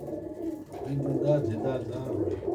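Sialkoti Ali-wale pigeon chicks cooing softly in a low, continuous murmur, close by and fairly quiet, with a voice talking over part of it.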